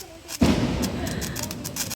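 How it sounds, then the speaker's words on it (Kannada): A Diwali firecracker bursts with one sudden sharp bang, followed by a rough, crackling decay that fades over about a second and a half. "ಪಟಾಕಿ ಕನಾರತ್ತ."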